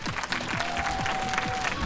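A concert audience at a sports dance club show claps briefly and steadily, a dense wash of hands with faint tones underneath.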